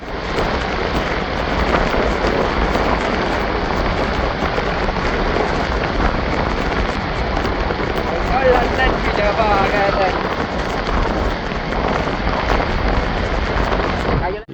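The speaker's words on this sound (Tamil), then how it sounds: "அவ்வளோத்துக்கு வந்து மழை பெய்ய தொடங்கி இருக்குது" Heavy rain pours down on a flooded road in Jaffna, a dense, steady roar of falling water and splashing that continues loud and unbroken throughout.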